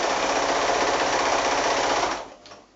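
A sewing machine runs steadily at speed, stitching fabric onto a plain tea towel, with a close, continuous whirring rattle that stops abruptly near the end.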